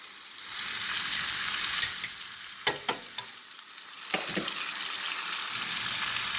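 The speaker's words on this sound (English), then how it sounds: "Push my meat around on the skillet." Oxtail meat sizzles steadily in a hot skillet, a bright hissing wash, broken by a few sharp scraping knocks as it is pushed around.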